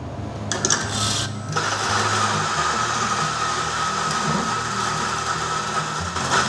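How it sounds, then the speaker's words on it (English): A Sanremo X-ONE coffee grinder grinds beans with a loud, steady, close motor whine and gritty burr noise, kicking in after a brief click at the start and running continuously without talk. "as it's grinding those beans"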